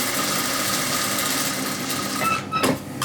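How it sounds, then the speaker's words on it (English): A home sewing machine stitches a seam along piping on a baby summer dress, running as a continuous close whirring drone that falters and stops near the end. "letting the foot of the machine guide itself on the"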